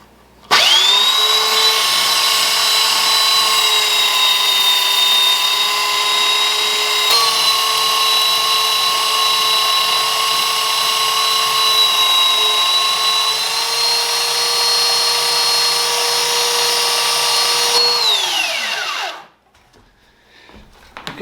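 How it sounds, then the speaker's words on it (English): A belt sander grinds an old axe head, a loud steady whine with a high tonal ring running continuously for about nineteen seconds, stepping slightly midway, then spinning down and stopping near the end. "I've already got one on my other belt sander, so let's just use it"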